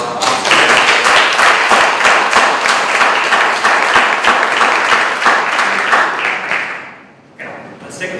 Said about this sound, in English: If you want a round of applause.